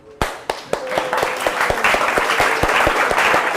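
An audience at a leadership masterclass breaks into applause, starting with a few sharp separate claps that swell within a second into steady, dense clapping from a roomful of people, held at an even level to the end.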